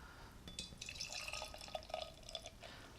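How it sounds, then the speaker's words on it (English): Triple Citra Daydream triple IPA from Other Half Brewing poured into a Teku glass, a quiet close trickle and splash of liquid filling the glass with a rising pitch, no talk. "let's pour the triple version"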